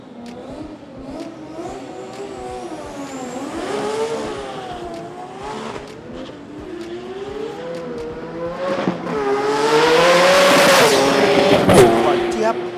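A 2WD street drag race car accelerates hard down the strip, its engine revving and rising in pitch through the gears, growing louder toward the end of the run over a crowd and announcer's commentary.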